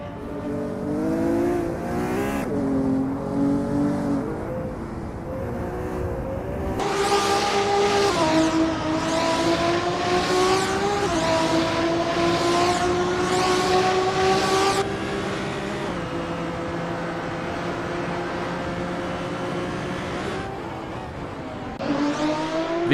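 Race-car engines drone as the cars warm up at the Nürburgring GP circuit in a sim-racing game. The tonal whine is steady, loud and continuous, with the pitch shifting up and down as revs change.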